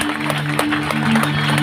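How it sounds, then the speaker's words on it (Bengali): A congregation at a 2024 revival program in Faridpur bursts into brief, loud, continuous clapping, a thick wash of hands with a steady musical drone humming underneath. "জোরে তার উদ্দেশ্যে হাততালি দিন।"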